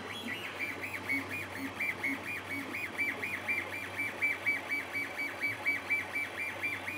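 A Celeritas CroXY carbon fiber concept 3D printer lays down its first layer, giving off a steady, rhythmic whirring whine that pulses evenly and close up throughout, with no one talking.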